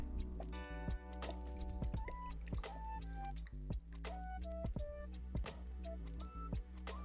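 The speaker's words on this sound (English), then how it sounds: "Now I'm gonna do a 1/4 cup of low sodium soy sauce." Low sodium soy sauce is poured for a Korean-style wing sauce, heard as a faint, close trickle with scattered soft drips and splashes, quiet and without voices.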